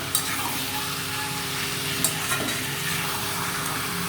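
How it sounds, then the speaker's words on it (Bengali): Marinated chicken being sautéed in a pan for a thin chicken-and-potato curry, a steady close sizzle and hiss with a couple of soft stirring knocks, no voices. "এখানে মাংসটা কষাচ্ছি"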